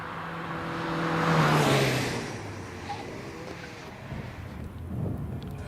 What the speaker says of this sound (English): Passing the commentary box already, James Izzard in the MX-5.